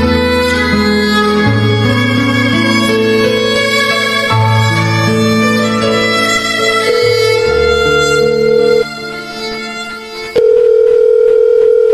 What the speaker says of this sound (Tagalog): Kanina ka pa dial dyan sa cellphone mo.